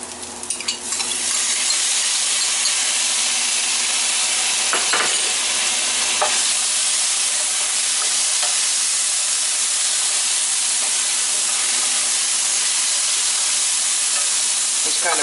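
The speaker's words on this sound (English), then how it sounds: "I got the onions pretty much starting to caramelize here" Onions caramelize in a hot pan, sizzling and hissing loudly and continuously for the whole stretch, with a few brief stirring clicks and scrapes.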